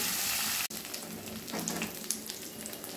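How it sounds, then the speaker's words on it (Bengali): Pabda fish fry in oil over medium heat, giving a steady, close sizzle with crackling pops. The sound drops out for an instant early on, then the frying carries on evenly with no talking. "মাছগুলো ভেজে নেব এবার মিডিয়াম আঁচে"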